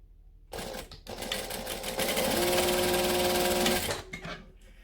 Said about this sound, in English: So I'm going to stitch. I'm going to back stitch at both ends.